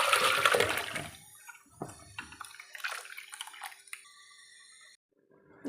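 Butterfly pea flower liquid is poured into a vessel, producing splashy trickling bursts that come and go for several seconds, fairly close and moderately quiet, with brief drips between pours.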